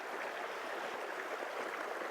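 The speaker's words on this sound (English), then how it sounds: "We're right next to this creek. It's flowing pretty good, crystal clear water." Ice-cold, crystal-clear snowmelt creek flowing steadily beside a forest camp below a snow-capped mountain, a constant close rushing and gurgling wash with no voices.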